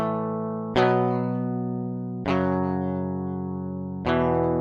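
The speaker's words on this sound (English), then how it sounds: "I added a guitar rig with some distortion and flanger to have that movement on top." Three distorted electric guitar chords are struck one after another, each ringing out and slowly decaying, with a sweeping flanger effect adding movement on top, loud and close with no voices.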